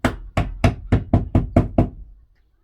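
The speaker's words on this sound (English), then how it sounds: "I just need to knock it home." A bolt is knocked home on a VW Crafter campervan's spare wheel carrier with eight sharp, evenly spaced metallic hammer blows in quick succession, up close, followed by silence.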